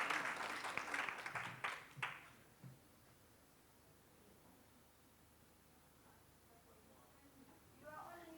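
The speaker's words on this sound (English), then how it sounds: "Please put together a warm round of applause for Benedetta" Conference attendees give a short round of applause, a few seconds of clapping that fades out quickly, followed by quiet room tone and faint movement near the end.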